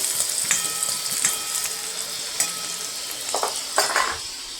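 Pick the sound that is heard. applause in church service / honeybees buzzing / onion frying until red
onion frying until red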